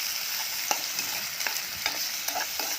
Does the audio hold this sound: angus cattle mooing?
no